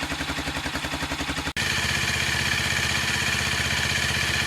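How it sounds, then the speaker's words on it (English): A Sachs X Road 125 motorcycle engine idles steadily up close, a smooth, even ticking-over beat that continues with no speech over it. "So you can hear the idling's picked up now, and it's running nice and smoothly."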